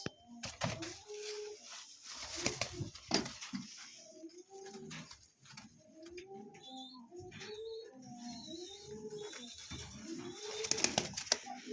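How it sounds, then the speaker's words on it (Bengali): A pair of white shouking fancy pigeons at a pigeon seller's, heard as low, repeated cooing with soft wing and body rustles, close by and fairly steady, along with a few sharper bird calls and no one talking. "টপ কোয়ালিটির এক জোড়া শৌকিং কবুতর আছে, হোয়াইট শৌকিং"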